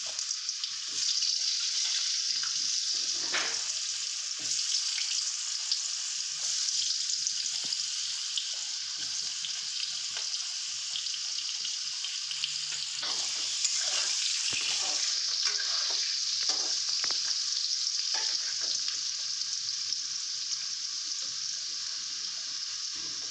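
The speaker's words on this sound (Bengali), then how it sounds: "আলুগুলোকে ভেজে নেব।" Potatoes fry in a pan for a Bengali cauliflower korma, giving a steady, moderately loud sizzle throughout with occasional sharper crackles and stirring clinks, and no talking.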